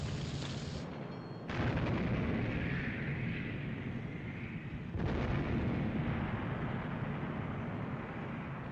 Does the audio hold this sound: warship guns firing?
yes